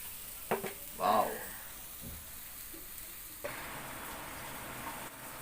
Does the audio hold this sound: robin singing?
no